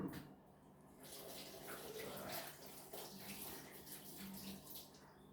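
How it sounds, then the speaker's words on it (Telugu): Tap water runs and splashes as something is washed at a sink, a continuous faint gush with small sloshing changes and no voices. "కడుగు మంచిగా నీళ్ళు దాన్ని."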